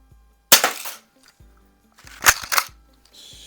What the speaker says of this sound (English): Let's go ahead and take a few shots at it,